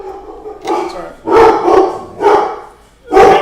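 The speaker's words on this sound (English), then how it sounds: "Yeah, we got dogs." A co-host's dog barks indoors in four or five loud, close barks spaced across a few seconds, each sharp and full-bodied.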